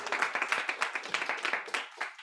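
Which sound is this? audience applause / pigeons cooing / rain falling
audience applause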